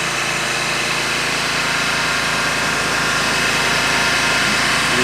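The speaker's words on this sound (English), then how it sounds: "The surface cleaner really makes a quick job of it." A pressure washer with a surface cleaner runs over a concrete pool deck, a loud, continuous engine drone mixed with rushing water spray, steady and close throughout.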